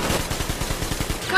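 Automatic gunfire from a Metro Exodus gameplay scene rattles in a fast, steady burst of evenly spaced shots lasting over a second, close and loud.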